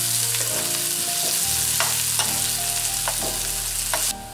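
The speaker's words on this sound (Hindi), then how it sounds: "चॉप किया हुआ प्याज ऐड कर देते हैं और इसको हल्का सा रोस्ट कर लेते हैं" Chopped onion and ginger lightly roasting in oil in a pan, with a loud, continuous sizzle, occasional stirring scrapes and a low background hum.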